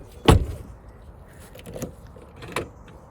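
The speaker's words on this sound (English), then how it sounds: "the central locking is actually working" Central locking actuates on a Mini R50/R53 after a body control module swap: a sharp, brief mechanical clunk followed by two softer clicks a moment later, with quiet between them.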